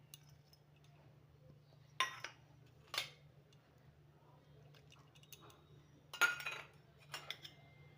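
Young jackfruit being mixed by hand with Kashmiri chilli powder, salt and turmeric in a bowl, a few soft squishes and metallic clinks spaced apart over a quiet room hum.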